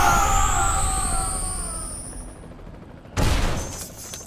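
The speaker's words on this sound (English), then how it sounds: "Proton cannon!" Iron Man's proton cannon attack in Marvel vs Capcom: a bright sweeping energy blast that fades out, then a sudden loud explosive burst of crackling impact noise.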